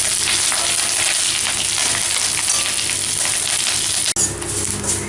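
Curry leaves fry in hot oil in a pan for garlic chutney, a dense, steady sizzle and crackle that runs loud and close, briefly cut off near the end before resuming.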